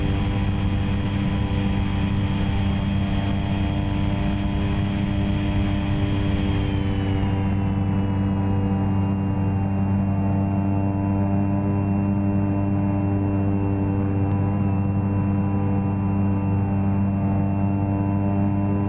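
An airplane engine in the flight simulator X-Plane 11 drones with a steady, tonal, propeller-like hum that holds constant throughout, loud and alone.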